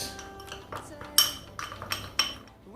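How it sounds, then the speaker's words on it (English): Chili powder, garam masala and vinegar get mixed in a dish: a spoon clinks and scrapes against the bowl in irregular close taps, with a few sharper metallic knocks. "1 teaspoon of vinegar. We're going to give it a good mix."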